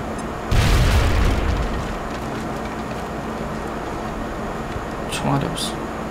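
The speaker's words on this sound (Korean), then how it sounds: "수류탄." A grenade goes off in the strategy game XCOM: Enemy Within with a loud, deep boom and a rumbling tail that fades into steady background hum, followed by a couple of faint later sounds.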